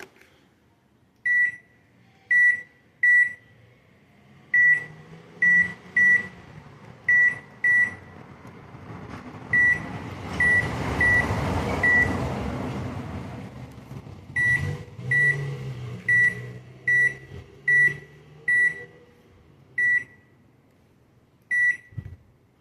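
An Electrolux MEP41 microwave oven under repair runs a test, giving a steady low hum with a louder whirring surge in the middle, punctuated by a long series of sharp, repeated beeps in irregular groups.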